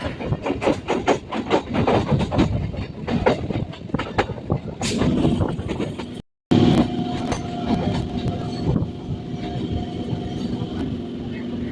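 Loud, close rattling of a Naihati–Ballygunge local train on tracks past Kolkata station with repeated clacking of the wheels, a short break midway, then a steadier rolling rumble continues.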